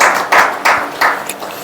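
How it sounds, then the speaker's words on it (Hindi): A church congregation claps to give thanks to God: a few loud, separate claps or short bursts of clapping, close by, with no talking. "परमेश्वर को ताली बजा के प्रभु का धन्यवाद करते"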